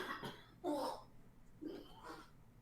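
A person coughs and chokes in a room, several short rough bursts separated by pauses, fairly close and moderately loud.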